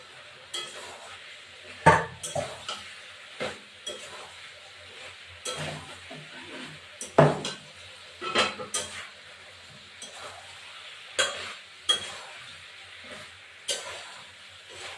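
Potato and cauliflower pieces sizzle in a frying pan for a festive vegetable curry, with repeated clanking and scraping strokes of a utensil against the metal over a low, steady crackle.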